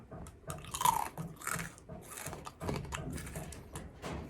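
Close, crisp bites into a crunchy baked carrot chip followed by steady chewing crunches, loud near the mouth with no talking.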